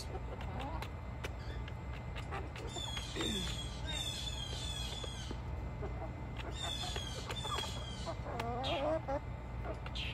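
Chickens feeding on corn and apple, with scattered clucks and a few squawky bursts at close range, over a low background hum and intermittent talk.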